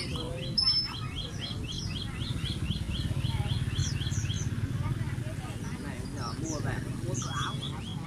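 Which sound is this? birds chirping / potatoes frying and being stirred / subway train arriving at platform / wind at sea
birds chirping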